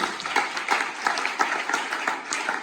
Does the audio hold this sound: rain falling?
no